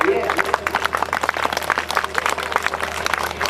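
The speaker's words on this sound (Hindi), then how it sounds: "अब बजा लो ताली, अब तो खूब टपर टपर हो रही है।" An audience claps along at a musical Shrimad Bhagavat katha in Vrindavan, in rhythmic, close, lively bursts, with a voice talking over the clapping.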